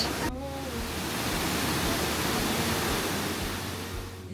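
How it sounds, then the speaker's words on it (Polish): A waterfall in a rainy forest gorge on Madeira roars as a dense, continuous rush that swells and stays strong throughout, after a brief voice at the very start. "tu z tyłu mamy piękny wodospad, który myślę, że słychać"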